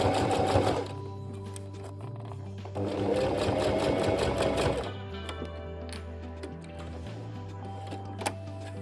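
A sewing machine runs a zigzag stitch on oven gloves with a steady, fast mechanical whir and rattle. The motor hums close and loud in long bursts separated by brief slowdowns and pauses.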